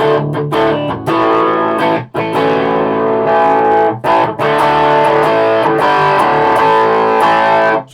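Distorted electric guitar through a Vox AC15 amp modeller, tremolo and reverb off, playing sustained chords, loud and continuous, with a couple of brief breaks between strummed phrases.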